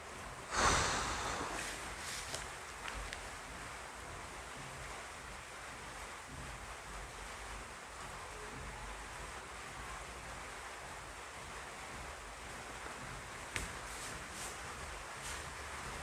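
Heavy rain roars steadily outside, a dense, continuous wash of noise that holds for about sixteen seconds, with a sharp thump near the start and no talk over it.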